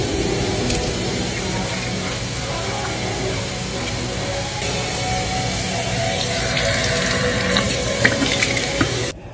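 A gym shower runs in a steady, close hiss of spraying water, with a few faint knocks and splashes near the end and no talking.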